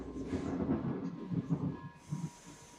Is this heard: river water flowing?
no